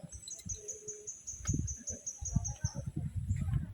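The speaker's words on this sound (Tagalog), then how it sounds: "Ayun, ibon." Birds chirp and call in a garden at the Angono-Binangonan Petroglyphs Museum in Rizal, Philippines. A high, steady trill sounds with scattered tweets under nearby talking and handling noise.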